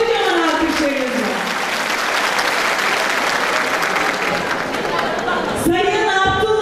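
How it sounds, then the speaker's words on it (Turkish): Audience at a Yörük Türkmen festival in Isparta applauds an introduced guest, a dense burst of clapping that fills the clip with a voice coming in near the end. "Kocaman alkışlarınızla"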